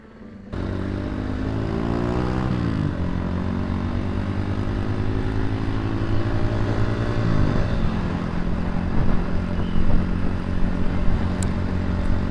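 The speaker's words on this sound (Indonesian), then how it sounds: "Tuh motor Pak Boy hariwang." A motorcycle ridden on a trip toward Madasari beach and Pangandaran, its engine droning steadily, rising in pitch as it accelerates, easing off, then climbing again, loud and close with wind rush and no talk.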